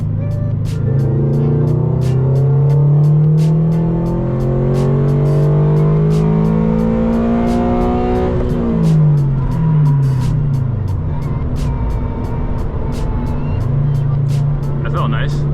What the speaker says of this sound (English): so then I can do my wide open throttle pull